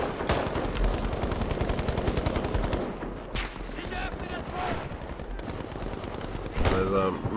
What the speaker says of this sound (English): There's a massive shootout here.